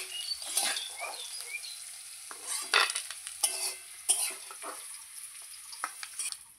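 A mixed vegetable fry is stirred and scooped out of a pan, with close, intermittent scrapes and clinks of a spatula against metal over a soft sizzle, and no talking.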